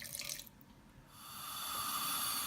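Cold water pours from a tap into a cooking pan, a steady rushing hiss that rises and fills in after a brief quieter moment, close and continuous.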